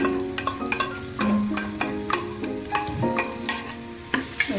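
Onions frying with ginger garlic paste in a pan, a steady sizzle with clinks and scrapes of a spoon stirring at an irregular rhythm, close and clear.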